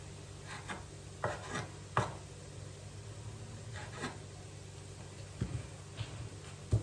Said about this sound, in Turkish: Bu şekilde ince ince doğrayalım.